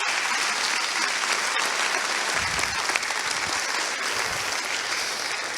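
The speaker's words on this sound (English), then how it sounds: "Let me get a huge round of applause for them" Sustained applause from a conference audience after a speaker asks the crowd to recognize event staff, steady dense clapping filling the room for several seconds with no talking.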